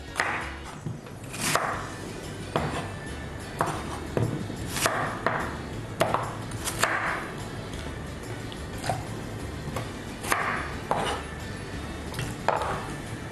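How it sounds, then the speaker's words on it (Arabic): Irregular knife chops through sweet potato on a cutting board, sharp and fairly close, spaced a second or so apart over faint room noise. "هنقطعها اي تقطيع."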